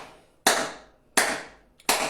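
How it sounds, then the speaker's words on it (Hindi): Three sharp, loud hand claps at a yoga session, evenly spaced about a second apart, each cracking out crisply and fading quickly into near silence. "तालियां।"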